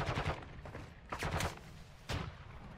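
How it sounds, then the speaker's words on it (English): Sniper shots in Call of Duty DMZ, a few sharp cracks spaced out over a couple of seconds, loud against a steady game background with no talking. "I just got sniped at."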